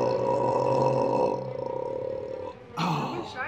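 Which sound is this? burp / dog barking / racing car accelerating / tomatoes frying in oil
burp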